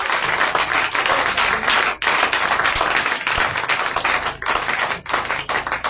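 A church congregation applauding the Lord Jesus Christ at a commemoration service, dense continuous clapping from a large crowd, loud and close, with brief dips in the rhythm.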